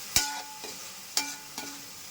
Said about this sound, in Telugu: ఇది కూడా పుదీనా, కొత్తిమీర, అల్లం వెల్లుల్లిపాయ పేస్ట్ మొత్తం పచ్చివాసన పోయేంత వరకు వేయించుకోవాలండి